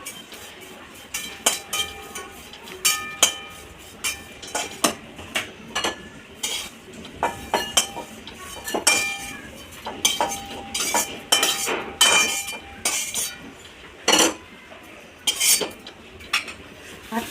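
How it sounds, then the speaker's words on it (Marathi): Cumin and caraway seeds are dry-roasted in a pan while a metal spoon stirs them, producing repeated close clinks and scrapes against the pan in an uneven rhythm over a faint low background, with no voices. "आता मी भाजून घेते जिरे आणि शहाजिरे."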